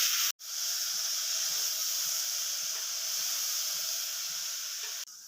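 Potatoes and soaked, peeled hyacinth beans frying in oil for sambar, a steady close hiss that runs unbroken for several seconds with faint low knocks beneath.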